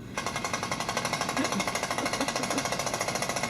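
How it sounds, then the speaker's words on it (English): Drilling for a water well makes a rapid, regular pounding, like a jackhammer, that starts abruptly and repeats in even strokes at a steady loud level. "I suppose we'll be drilling for water all summer?"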